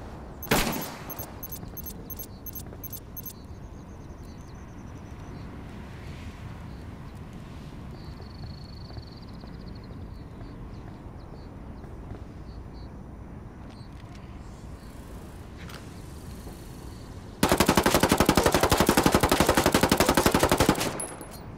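Enemy gunfire in the video game Ghost War cracks in a quick burst early on, then after a long stretch of low background noise a loud, sustained machine-gun volley erupts for several seconds.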